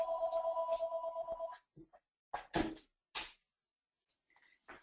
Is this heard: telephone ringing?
yes